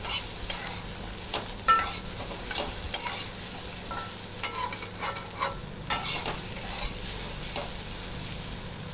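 Soya chunks fry in a pan with a steady, bright sizzle, while a utensil stirs and scrapes at intervals throughout; no voices.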